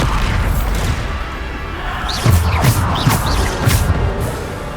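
Bombarda spell blasts go off in Hogwarts Legacy amid combat, several heavy booming thumps over a constant loud rumble of battle noise.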